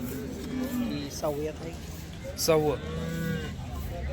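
A cow lows twice at close range at the Sangola cattle market, deep drawn-out moos, with a person speaking and a low hum around them.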